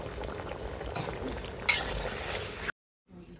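A spoon stirs curry with yogurt, bottle gourd, small fish and tomato in a cooking pot, making soft scraping and bubbling at moderate level, with a brief louder scrape midway before the sound cuts out.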